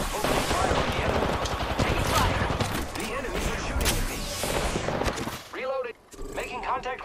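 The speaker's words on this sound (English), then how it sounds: "Opening fire on the enemy." Sustained automatic gunfire and heavy weapon bursts in a squad-based shooter video game, loud and continuous for most of the stretch, with a brief drop near the end before shorter game sounds return.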